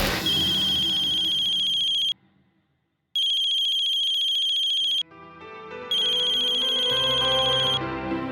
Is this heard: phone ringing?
yes